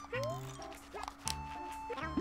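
Cartoonish dog barks from the video game Yoshi's Crafted World, a few short yips scattered among game music and effects, with a player talking over them.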